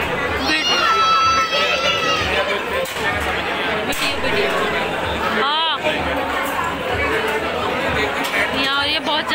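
Dense crowd chatter at a wedding, many overlapping voices forming a loud, continuous babble close by, with occasional nearer voices rising out of the hubbub throughout.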